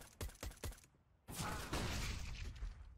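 Counter-Strike: Global Offensive gunfire: three sharp shots open the exchange, then a dense, sustained burst of overlapping firing and impacts rings out at moderate volume, with no talking.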